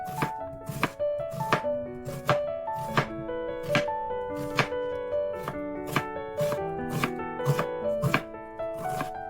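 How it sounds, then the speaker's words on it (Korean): A knife chops onion on a cutting board in a home kitchen, steady sharp knocks repeating roughly twice a second over about nine seconds, close and distinct with no talking. "양파를 썰고"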